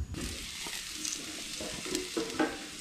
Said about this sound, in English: Perfect weather to cook some meat.